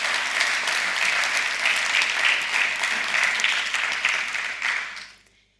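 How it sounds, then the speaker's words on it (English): A conference hall audience at a closing session gives sustained, dense applause, holding steady for several seconds before fading quickly into silence. "So a big round of applause for all the folks that you see on here as well"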